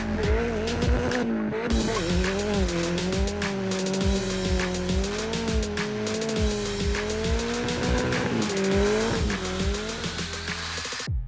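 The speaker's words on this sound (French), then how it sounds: "Les gars, ils ont fait le smoke show." A car doing a burnout at a Montreal lowrider street gathering, its tires squealing loudly and continuously over a revving engine with wavering pitch, close and sustained throughout.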